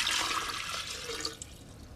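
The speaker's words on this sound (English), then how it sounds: "He took a glass jar and poured in some water." Water pours into a glass jar in a staged scene for an early experiment on storing electricity, a steady bright splashing rush that thins and quiets toward the end, heard alone without voices.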